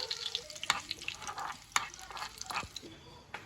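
Curry leaves and dried chili hit hot oil in a pan, giving a crackling sizzle with sharp spitting pops scattered through it, close and fairly quiet, with no voice over it.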